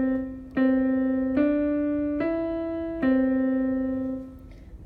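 Four clear piano notes played one by one with the right hand, forming the opening phrase of Frere Jacques, each struck cleanly and left to ring, close and alone.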